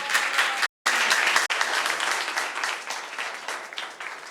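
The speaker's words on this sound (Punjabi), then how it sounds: "ਆਓ ਜ਼ੋਰਦਾਰ ਤਾਲੀਆਂ ਖੁਦਾਵੰਦ ਯਿਸੂ ਮਸੀਹ ਵਾਸਤੇ" A church congregation applauds loudly for Jesus Christ, dense sustained clapping from many hands, cut by a brief dropout early on and then continuing evenly.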